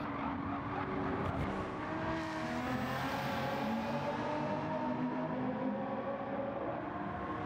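Race cars in a multi-class event at Daytona blast through a chicane, engines roaring and shifting steadily with some tire squeal, a continuous dense wash of passing cars heard from trackside without commentary.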